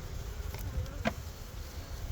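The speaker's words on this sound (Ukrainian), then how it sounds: "Оце скільки було бджоли тут" Honey bees at a hive hum in a low, steady drone close by, with a brief nearer buzz passing through; no voices.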